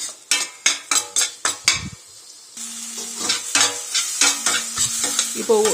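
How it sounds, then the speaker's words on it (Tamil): Chopped tomatoes are sautéed in oil in a pan for a one-pot rajma potato curry; a run of loud utensil clanks against the pan gives way to a continuous sizzle broken by stirring scrapes. "அரிஞ்சு வச்ச தக்காளி எடுத்து அதில் நல்லா போட்டுக்கிறோம். தக்காளி பச்சை வாசனை போகிற வரைக்கும் கொஞ்சம் நல்லா தக்காளியை நல்லா வணக்கலாம்."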